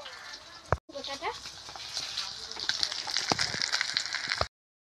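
Food frying in hot oil, a broad crackling sizzle that swells after a sharp knock and runs steadily with scattered pops before stopping abruptly, close by with voices talking over it.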